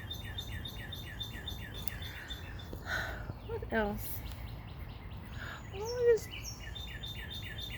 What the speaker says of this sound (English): just two little birds over here.